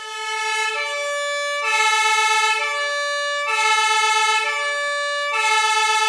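An ambulance-style emergency siren wails in a steady two-tone alternation, loud and close, cycling back and forth without pause.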